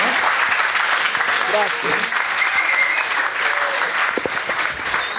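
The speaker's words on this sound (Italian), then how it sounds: "con un bel applauso, noi lo ringraziamo" Audience applause at a lecture on languages in economic and legal settings, loud sustained clapping from a full room with a brief spoken word and a few voices mixed in near the middle.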